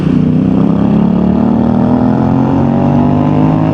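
Motorcycles ride past on a dirt trail, their engines a loud, steady, close drone that holds throughout without any talking.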